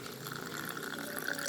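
Water poured into a cooking pan with fried onions and a corn flour mixture for a baby corn pepper fry, a soft steady trickling stream at low volume with no talk.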